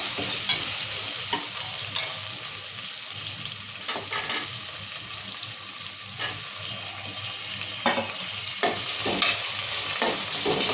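Tomatoes frying in hot oil for a mutton curry give a steady, close sizzle, broken every few seconds by sharp scrapes and knocks of a spoon stirring the pan.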